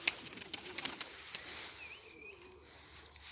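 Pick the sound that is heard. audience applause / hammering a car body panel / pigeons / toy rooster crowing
pigeons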